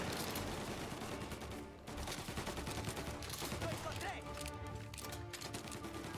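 Loud, dense gunfire from a shotgun fight in the video game Mafia: Definitive Edition, with repeated blasts over a busy battle mix and game voices talking throughout.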